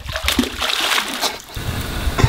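Sticks tossed by hikers into a river land with quick, close splashes, one early and another near the end, over a soft, steady wash of flowing water and faint voices.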